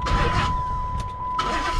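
A custom Dodge Magnum with a Hemi V8 and Brembo brakes is started at a dealer auto auction. The starter cranks briefly, the engine catches with a loud burst, then it settles into a rough idle.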